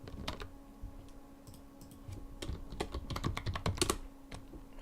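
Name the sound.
typing on a computer keyboard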